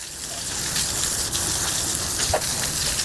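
Water from a tap splashes and sprays onto a surface, a steady broadband hiss with a few brief spatters, close and moderately loud, no talk.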